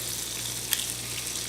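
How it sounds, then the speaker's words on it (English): Egg sizzling steadily in melted butter in a medium pan, a soft continuous fry with one brief clink partway through, no voices. "I'm going to fry up that egg right now"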